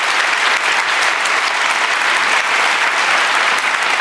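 Loud, dense audience applause fills a book event with author Damien Echols at the New York Public Library, a steady roar of clapping hands holding even throughout, with no talk over it.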